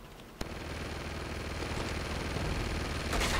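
Gunfire in the Uncharted 2: Among Thieves video game starts with a sharp crack, then becomes a dense, steady barrage of rapid shots at moderate loudness.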